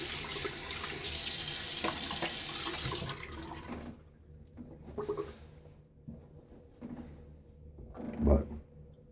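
Tap water runs steadily into a sink during a wet shave with a Gillette Nacet blade, a loud gush that stops after a few seconds, followed by quieter splashes and handling sounds near the basin.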